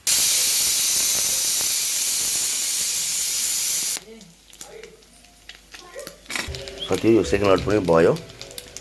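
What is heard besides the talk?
buffalo meat achar deep frying with spices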